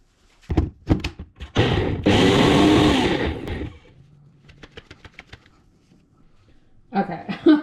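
Kitchen blender whirring through hummus ingredients with a little added liquid, a loud dense burst of about two seconds after a few sharp knocks, then quieter clatter and a brief second burst at the end.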